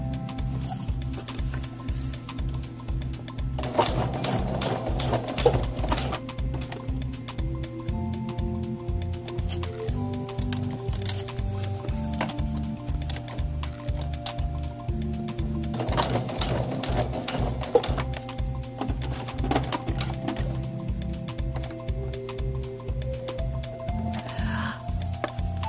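Sewing machine stitching a blind hem on pants, a steady rapid mechanical chatter of needle strokes running throughout, with brief pauses and shifts in pace partway through.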